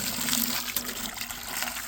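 Ice-cold well water gushes steadily into a bucket being filled about halfway on a pig farm, a continuous close hissing pour with small splashy fluctuations.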